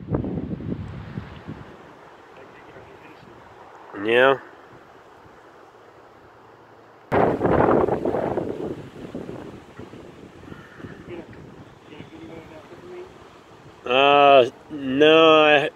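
Strong wind buffets a microphone high up in a tree during tree trimming, roaring in gusts, with brief talk and rumbling bursts in between.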